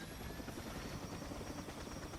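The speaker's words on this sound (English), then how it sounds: "Now in this case, this is a attack helicopter." An attack helicopter in the video game Toy Soldiers: Cold War gives a steady rotor thrum with a faint whine on top, quiet and unbroken throughout.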